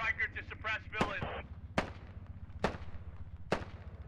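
Machine gun fire from the Squad video game cracks out as four sharp, spaced single shots over a low steady rumble, with voice-like radio chatter at the start.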